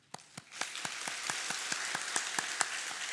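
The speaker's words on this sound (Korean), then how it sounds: "우리 인사하실 때 박수로 위로하도록 하겠습니다" A church congregation applauds during a Sunday service, the clapping starting suddenly and settling into a steady, even beat of about four claps a second, fairly soft and slightly distant, with no talking over it.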